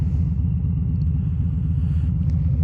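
A motorcycle creeping forward slowly in first gear with the clutch easing out and no throttle: a low, steady engine rumble with a rough pulsing texture holds close and constant throughout, and nobody speaks.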